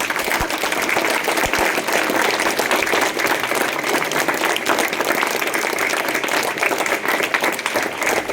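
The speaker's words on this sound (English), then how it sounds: "They need a big round of applause" A school audience gives a long, steady round of applause for young class 5 students after their performance, many hands clapping densely and evenly throughout, loud and continuous with no talk on top.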